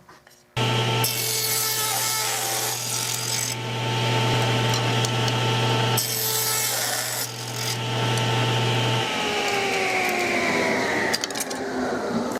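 A power saw rips a wood board lengthwise to narrow it for an antique nightstand drawer side, a loud continuous whining cut with a steady hum that drops away near the end, no talking.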